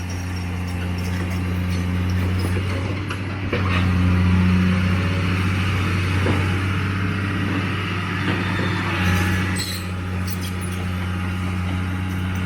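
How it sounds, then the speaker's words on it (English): A backhoe flattening a dirt road during a road build in the Philippines rumbles with a steady diesel engine drone, its revs rising briefly and then settling, heard at moderate distance. "So that's what the backhoe's doing now, is just making it"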